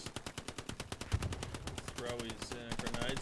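Rapid automatic gunfire crackles in quick, evenly spaced bursts during a World War II video game battle at Sainte-Mère-Église, moderately distant and fairly quiet, with a voice talking over the later part.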